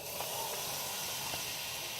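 Stick of butter sizzling in a hot pan while preparing crayfish pie, a steady broadband hiss, moderately loud and continuous with no voices.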